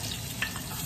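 Onions drop into a hot frying pan with a continuous close sizzle and a tiny crackle in the middle, no voices.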